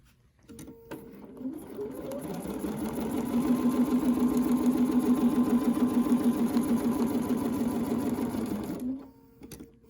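A sewing machine stitches a quilt along a curvy ruler, its motor whirring up to a steady fast hum that holds for several seconds before slowing and stopping near the end.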